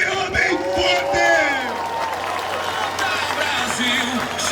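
A crowd claps and cheers at a Brazilian street rally, a broad wash of applause under a loud amplified voice that carries across the gathering.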